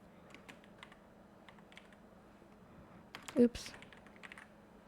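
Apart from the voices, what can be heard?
typing on a computer keyboard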